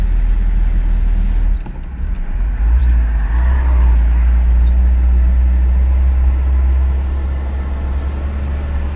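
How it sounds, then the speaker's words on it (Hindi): A car engine labours up a steep mountain road in first and second gear, its deep, loud drone steady and continuous with a brief dip partway through, on a rain-damaged hillside route with fallen rocks. "पहले गियर दूसरे गियर में गाड़ी चढ़ाते हैं, वो भी मर के चढ़ती है।"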